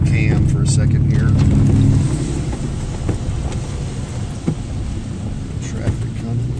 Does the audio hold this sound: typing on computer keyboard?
no